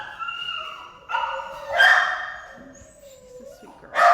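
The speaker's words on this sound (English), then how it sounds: "a 5-month-old retriever husky mix" A five-month-old retriever husky mix puppy lets out a few close barks, yips and whiny whimpers in irregular bursts, the loudest at the end.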